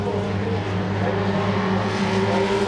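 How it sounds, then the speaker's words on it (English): A pack of Formula Vee race cars with 1300cc air-cooled engines snarls past at Donington Park, a loud, dense engine drone of several cars at once holding steady throughout with no voices. "this snarling pack of Formula V's, the 1300cc air-cooled engines"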